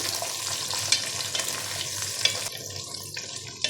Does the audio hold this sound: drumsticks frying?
yes